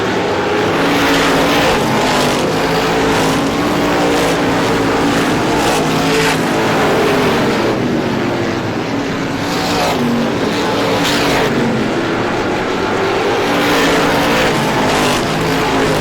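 Race cars roar around the track at the 51st Star Classic in a continuous loud drone, engines rising and falling as they pass, with no talking.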